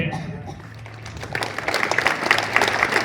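Crowd applause welcoming a guest at a political gathering in Lohardaga, rising from a murmur into a busy patter of clapping under an announcer's amplified voice.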